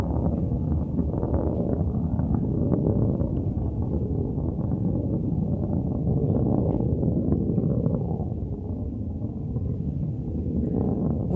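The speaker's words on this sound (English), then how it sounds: "we can hear that BE-3 engine just roaring through the sky" A Blue Origin New Shepard rocket's BE-3 engine roars through the sky over West Texas as a steady, distant low rumble that stays constant and fairly faint.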